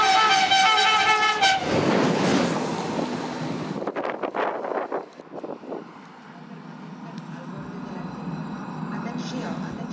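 A non-stopping train roars through a station at speed, loud rumble and wind rush that fades away, leaving quieter station ambience; a Catalan announcement voice is heard briefly.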